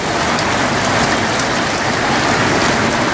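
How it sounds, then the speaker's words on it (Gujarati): Heavy rain with strong wind during an unseasonal summer storm in Unjha, Gujarat, a loud, dense and unbroken roar of pouring water that holds steady throughout with no voices. "ઊંઝામાં ભારે પવન સાથે વરસાદ વરસ્યો હતો."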